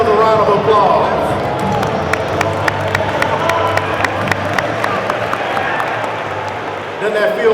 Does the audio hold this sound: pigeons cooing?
no